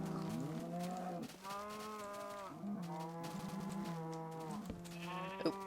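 A Minecraft cow moos repeatedly, several drawn-out, tonal lowing calls in a row with short gaps between them, close and clear with no talking.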